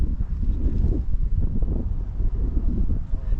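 Wind gusts on the Gower coast near Rhossili Bay roar and buffet the microphone in a constant low rumble, loud and unbroken, with no voices.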